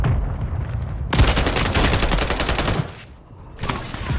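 Gunfire from an incendiary shotgun in Call of Duty Modern Warfare III rings out close and loud in a rapid string of blasts, then a brief lull, then another burst.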